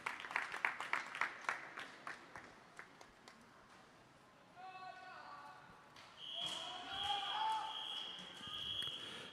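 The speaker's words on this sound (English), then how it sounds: "Big round of applause, folks, for these boys" Applause for swimmers at a long course swimming championship, a burst of claps echoing around an indoor pool hall, fading after a few seconds, followed by whistle-like tones and crowd noise.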